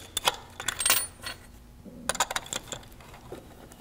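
A metal Tecnoflask denture flask is handled and tightened down with its clamp, making sharp light metallic clinks and rattles in two short clusters separated by a brief quiet pause, close up.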